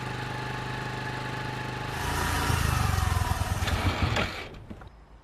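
A motorcycle engine idles steadily, then the motorcycle pulls to a stop with a burst of louder rough engine sound before it drops away near the end. Heard close.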